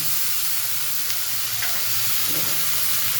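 Ginger, onion, garlic and green chilli paste hitting hot oil in a pan, a loud unbroken hiss and sizzle close by with faint clinks of the pan, no talking.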